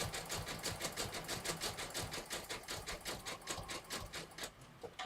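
An embroidery machine stitches a rope handbag sample in a fast, even mechanical chatter, close and constant throughout with no talking.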